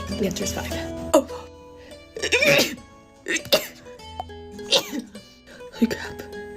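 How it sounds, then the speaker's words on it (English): Wet sniffles and sharp breathy bursts from a girl, ending in a sneeze-like burst among several short nasal and throat sounds, close and moderately loud, with faint musical tones in the background. "Let's see how many sniffles it takes for me to sneeze."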